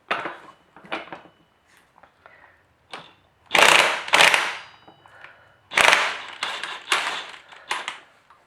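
A ratchet working on the rear wheel of a Honda Bros NT400 motorcycle during restoration makes sharp metallic clicks and bursts of rapid ratcheting, some close and loud, others lighter, with pauses between.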